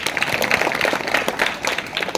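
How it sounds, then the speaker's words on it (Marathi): An audience at a children's science exhibition fills the room with dense, continuous applause, many hands clapping at once in a steady crackling wash without pause. "टाळ्या वाजवा"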